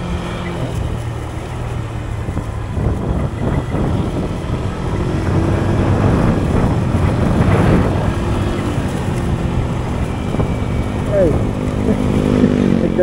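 A Honda Click scooter engine hums steadily while riding through the countryside around Teresa, Rizal, with wind buffeting the microphone throughout and a voice speaking over it.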